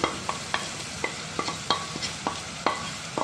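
Beef curry with coriander, chilli and beef masala powders being stirred and sautéed in a pan, a spoon scraping in sharp repeated strokes roughly every half second over a soft, steady sizzle, close and clear with no talking.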